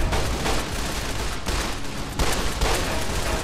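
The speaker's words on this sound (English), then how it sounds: "Look at that turret going through him." Sustained automatic turret gunfire in Fallout: New California, a dense, continuous rattle of shots running unbroken at close range with brief dips in intensity, with no voices over it.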